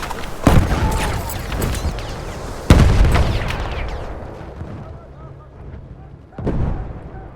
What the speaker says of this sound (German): Ich werfe eine Granate!